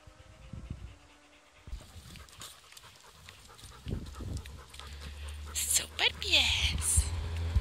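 A dog pants quickly and audibly up close, with a person speaking briefly and some rustling and movement noises around it.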